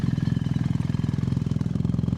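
A BMW R1300 GS motorcycle fitted with an Akrapovic titanium full exhaust system and de-cat headers idles up close, a steady, mellow low thrum with an even rapid pulse and no revving.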